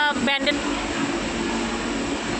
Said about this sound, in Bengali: এই দেখো, একটা ট্রেন এসছে